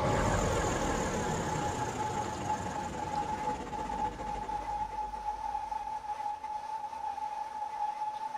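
A Class 180 diesel train rumbles in the game Train Sim 2019, a loud broadband roar easing into a quieter running hum with a steady high whine.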